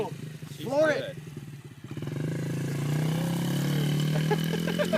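A motorcycle engine runs steadily in first gear with the throttle cracked open, a sustained low drone filling most of the clip, with people talking and cheering over it at the start.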